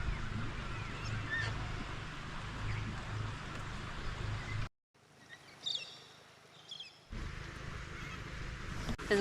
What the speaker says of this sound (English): There's galahs, I think they're bare-eyed cockatoos, and kookaburras.